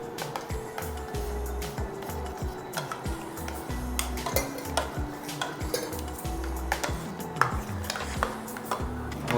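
Aval payasam ingredients being mixed in a pot, heard as quick repeated clinks and scrapes of a spoon against metal in an irregular rhythm, close and fairly soft over a low background hum.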